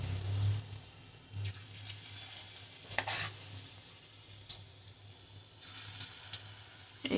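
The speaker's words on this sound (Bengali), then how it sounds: "এইভাবে ভেজে নেব আমি" Egg fritter batter frying in hot oil, a soft continuous sizzle with intermittent louder spoon stirs and scrapes against the pan, fairly quiet and without talking.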